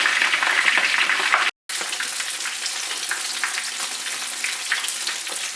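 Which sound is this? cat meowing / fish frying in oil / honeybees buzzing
fish frying in oil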